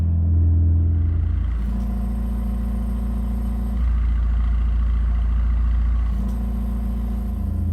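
A Mercedes-AMG GT Black Series engine idles and blips with its exhaust flaps opened, a loud, deep, rumbling drone that swells twice in short rev bursts before settling back to a steady burble.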